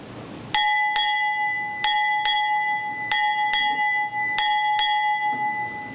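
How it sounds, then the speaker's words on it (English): A ship's bell rung eight times in pairs, clear ringing strikes spaced evenly, each pair quickly struck with a short pause between, loud and resonant. "Strike 8 bells."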